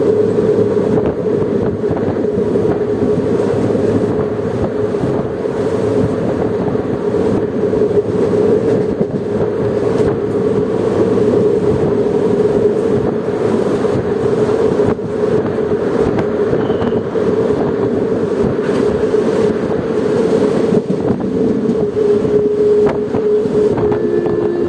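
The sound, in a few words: Guruvayur Madurai Express train running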